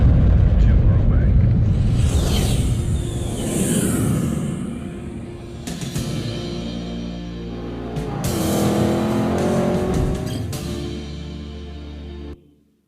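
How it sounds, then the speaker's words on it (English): Sports cars roar past one after another in a spatial sound demo, loud engine sweeps rising and fading with booming low rumbles and a sharp tail-off at the end. "you will hear and feel sports cars flying past you"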